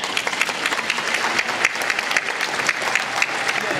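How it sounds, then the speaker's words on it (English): Crowd applause at a comic convention panel, a dense, lively round of many people clapping with a steady texture and some crisp claps punctuating it throughout. "We can clap for that."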